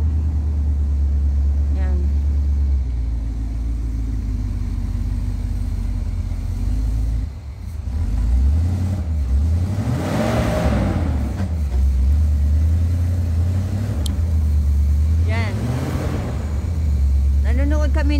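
Cars drive through water pooled on a road, each passing as a rising and falling swoosh of tyres and engine over a constant low rumble, two or three passes standing out, with voices talking nearby.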